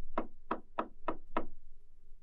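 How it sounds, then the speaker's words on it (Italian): Five evenly spaced knocks on a wooden door, sharp and close, each rapping with a hollow resonant thud, followed by quiet. "non restò allora che bussare alla porta della casa di fronte"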